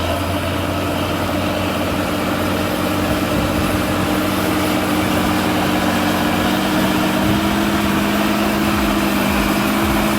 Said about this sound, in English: Its reliable engine and sturdy build keep it pushing earth with ease